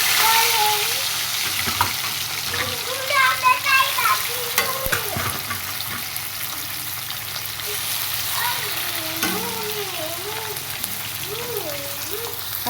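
Marinated prawns fry in a pan with a steady close sizzle and crackle, while someone talks over the cooking.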